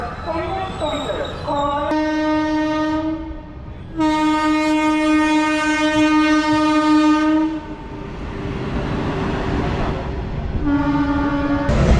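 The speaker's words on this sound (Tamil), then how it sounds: "இப்போ ட்ரெயின் உள்ள என்ட்ரு ஆகுது பெரம்பூர் ரயில்வே ஸ்டேஷன்" The Kovai Express horn blares in long sustained blasts as the train rolls into Perambur railway station in Chennai, with wheel noise beneath and a final horn burst near the end.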